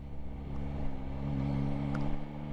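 A Yamaha motorcycle, a 2024 Tracer 9 GT+ or MT-09, accelerating under a steady, loud engine drone with rising harmonic tones.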